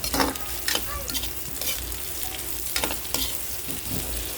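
Fried garlic and onion being sautéed with eggplant in a pan for eggplant adobo: a steady oily sizzle runs throughout, with scraping, clattering stirring strokes on top, close and fairly loud.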